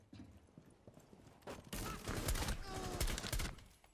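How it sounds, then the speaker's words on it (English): Gunfire in Rainbow Six Siege: a few sharp, loud single sniper-rifle shots in the second half, each clearly spaced. Softer game noise and movement sit before them. "They're single shot. It's a sniper rifle."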